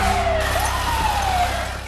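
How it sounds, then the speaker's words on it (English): Wailing emergency sirens from fire engines and police cars rise and fall over a dense roar of traffic and street noise near a building hit by an explosion on the day of the 9/11 attacks. "hear this just deafening roar of fire engines and police cars"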